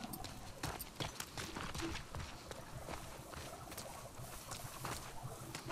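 Horse hooves clip-clop in a quick, steady rhythm against a busy soundscape in The Last of Us Part II, fairly faint and continuous throughout.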